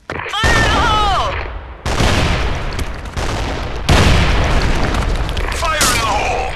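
Repeated loud booms from a thrown explosive in a video game, several heavy blasts close together over rumbling gunfire, with voices shouting in between.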